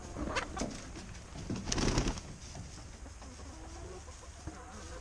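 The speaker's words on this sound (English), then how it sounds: "So we'll go ahead and let the chickens out right now." Chickens leaving their coop into snow give soft, low clucks and murmurs, faint and intermittent against a quiet outdoor background.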